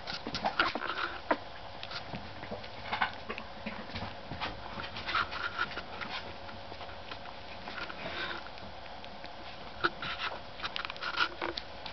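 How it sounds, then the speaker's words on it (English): Newborn puppies whimpering and sniffing close by, with soft high whines and small squeaks scattered in short bursts over a quiet background; a larger mother is feeding nearby. "So I'll just take the starving puppies."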